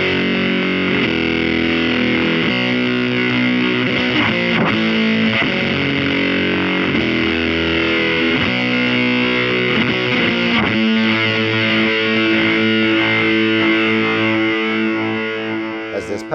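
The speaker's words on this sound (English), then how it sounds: "It's like a fuzz without the octave going, but it still has that kind of attack and edge on it that's so powerful with fuzz" An electric guitar runs through a Keeley Fuzz Bender hybrid fuzz pedal, giving a thick, distorted tone with a sharp, edgy attack. Sustained riffs and chords ring loud and continuous, alone with no talking, then stop abruptly at the end.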